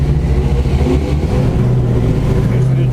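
A Ford car's engine drones loudly and close as it accelerates on a competition run at Ford Fest, holding a steady, heavy roar throughout.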